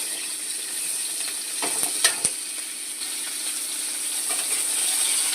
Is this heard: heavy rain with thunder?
no